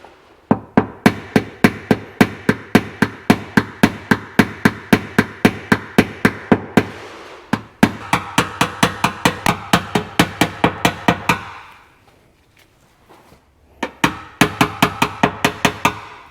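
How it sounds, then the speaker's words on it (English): Rapid, sharp taps of nylon knockdown tools blending out the lower part of a dent on a brand-new car, coming in steady bursts of evenly spaced knocks, close and loud, with brief pauses between runs. "I'm just trying to blend out this bottom part using a couple of different knockdowns, from a sharp nylon one to a blunt one."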